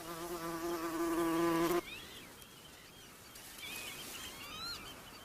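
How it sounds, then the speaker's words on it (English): A close, steady buzzing drone of a bumblebee hums for about two seconds in a Scottish machair meadow, then fades into quiet outdoor ambience with faint birdsong. "In high summer, the Macaire hums with rare bees like the moss carder and the great yellow bumblebee"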